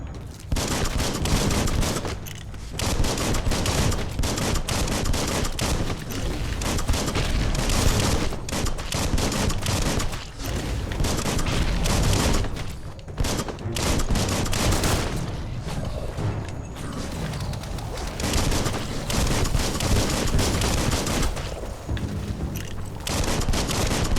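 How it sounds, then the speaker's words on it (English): Sustained gunfire in Biomutant, dense volleys of rapid shots and booms pounding almost without pause, loud and close throughout. "Behold the power of guns."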